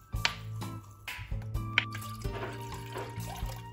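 Water and vinegar poured into a pot on the stove, with splashy drips and trickles in uneven bursts, close and fairly quiet, and a low background hum.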